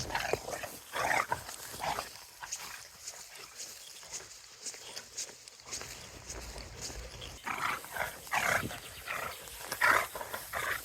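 An Olde English Bulldogge at a stud show, heard amid outdoor bustle with repeated rough, gruff vocal bursts and barks scattered through the clip, some louder and closer than others.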